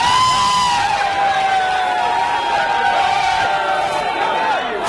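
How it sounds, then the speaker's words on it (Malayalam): A large, excited crowd cheers and shouts near Sultanpet junction as Prime Minister Modi's road show passes through Palakkad. Loud, sustained whoops and cries run through the whole stretch, and a whistle-like tone carries over the din. "സുൽത്താൻപേട്ട ജംഗ്ഷനിൽ വൻ ജനക്കൂട്ടമാണ് കണ്ടത് പ്രധാനമന്ത്രി എത്തിയപ്പോൾ പ്രവർത്തകർ ആവേശത്താൽ ഇളകി മറിഞ്ഞു"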